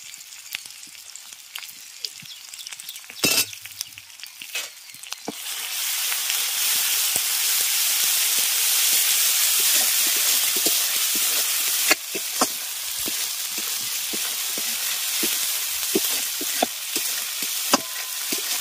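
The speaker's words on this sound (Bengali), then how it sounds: "মশলাটাকে এবার একটু ভালো করে কষিয়ে নেব।" Spice pastes of turmeric, garlic, ginger and chili fry and sizzle in hot oil, a loud continuous hiss that swells after a few seconds, broken by clicks and scrapes of stirring.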